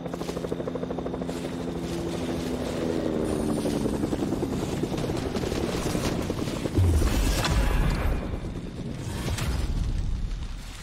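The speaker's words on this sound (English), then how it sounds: "Helicopter to the left." A helicopter in Fortnite: rotor thumps and engine drone continuously throughout, fairly loud and steady, with a few low rumbling booms midway and no speech.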